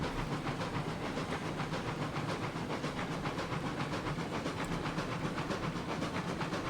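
A steam locomotive in RailRoads Online runs hard, its rapid rhythmic chuffs and hiss pulsing evenly and loud throughout, with no voices.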